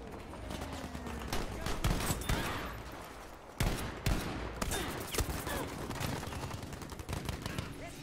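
Rapid gunfire in a video game, shots aimed at a flying scythe, a loud barrage of sharp cracks and bursts in irregular clusters, with a voice speaking in between.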